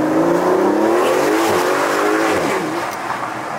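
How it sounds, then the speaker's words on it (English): A car's tires spin under hard acceleration with a loud, close engine roar and rising revs, the squeal and drone sustained throughout. "Nice, spinning tires"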